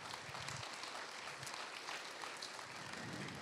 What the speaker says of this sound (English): how about a round of applause for those that planned and programmed this evening